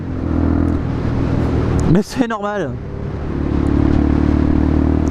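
A Suzuki VanVan 125 motorcycle engine runs steadily while riding, a low continuous drone that briefly rises and falls around the middle, with someone speaking over it.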